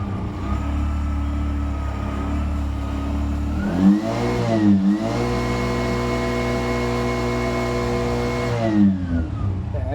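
A Bajaj BS4 auto rickshaw engine with a down, charging battery idles steadily, close and loud, its low throbbing drone rising in pitch with a couple of brief revs around the middle.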